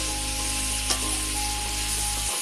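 Chicken for a Bengali cream chicken dish cooking and being stirred in a pan, giving a steady, loud, even sizzling hiss throughout with one faint scrape partway through, alone without talk.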